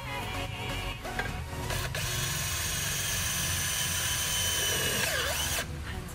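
A Bosch 36V cordless drill runs steadily with a 4mm Sago iron bit, giving a loud, continuous mechanical whir that holds for several seconds with slight shifts in pitch.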